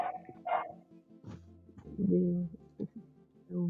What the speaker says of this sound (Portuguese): Meu cachorro aqui, ele tá latindo porque ele tá lá fora.